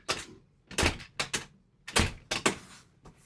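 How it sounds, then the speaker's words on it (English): A bathroom door in a cruise ship interior cabin on the Enchanted Princess, bumped and pushed shut, giving a series of sharp knocks and thumps close by, in irregular pairs with short gaps between them. "Bathroom door requires butt bump."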